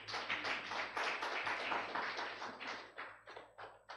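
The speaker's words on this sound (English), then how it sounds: "Can we have a final round of applause for Professor" Applause from a conference audience, individual hand claps audible in a small to mid-sized room, fairly quiet and tapering off toward the end.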